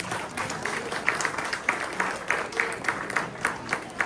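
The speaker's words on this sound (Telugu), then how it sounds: "మన గొప్ప భారతదేశ సంగీతాన్ని నిలబెట్టినందుకు విష్ణు అలాగే రోహాన్కి చప్పట్లు కొట్టండి" An audience at a Telugu children's language festival applauding two young Indian music performers, steady moderate clapping from a crowd with light murmuring throughout.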